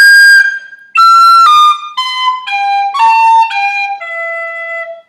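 A tin whistle plays variation phrase 3 of Scatter the Mud (Scaip An Puiteach), a clear run of about ten notes stepping downward and ending on a long, softer held tone, solo and close.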